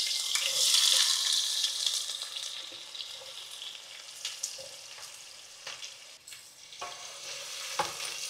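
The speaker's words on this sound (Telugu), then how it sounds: "ఇప్పుడైతే ఆనియన్స్ ఫ్రై చేసుకుందాం." Onions frying in oil for mushroom biryani over medium to high flame, a close steady sizzle with occasional stirring scrapes and light knocks, loudest at the start and settling a little after.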